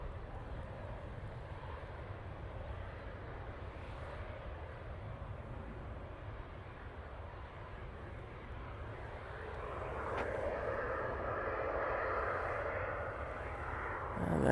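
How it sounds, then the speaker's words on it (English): TUI airliner taxiing out at Manchester Airport, a steady distant jet engine rumble that swells and brightens toward the end as the aircraft draws nearer. "We do have a TUI on the taxi out."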